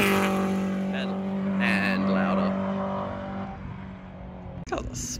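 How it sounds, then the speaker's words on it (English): A BMW M3 race car at a Lakeside Park raceway track day roars past with a loud, steady engine note that gradually fades. A brief sharp noise follows near the end, and people talk faintly. "Not enough of this M3 race car, it's like faster than all the other cars."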